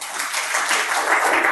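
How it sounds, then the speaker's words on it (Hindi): An audience at a session with a chemistry teacher breaks into dense, steady applause, many hands clapping loudly and evenly throughout. "जो नहीं जलते वो ताली बजाएं।"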